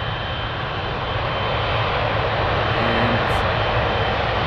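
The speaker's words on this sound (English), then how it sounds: "Yet another butter landing," A Boeing 777 airliner landing on runway 25R at a cold Frankfurt Airport gives a steady, loud, broadband engine roar that builds slightly as it passes.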